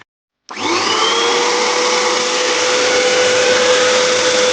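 An Energomash KP9660P electric paint sprayer switches on after a moment of silence and runs with a loud, steady motor whine and airy hiss, close and continuous, with no speech.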